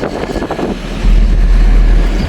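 Strong wind buffets the microphone at a roadside market, a loud low rumbling gust that swells after a softer start and holds steady, with no one talking.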